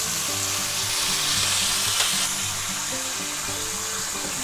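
Ribeye steak sizzles loudly and steadily in a pan while being basted with butter, a constant close hiss with a low tonal hum running underneath.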